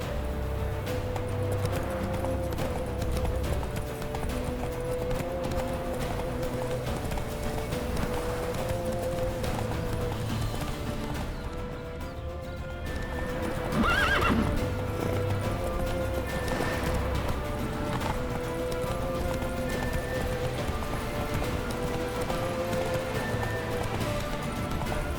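Game horse Roach from The Witcher 3 clip-clops at a steady gallop over a bed of music and ambience, with a short neigh around the middle; no talking.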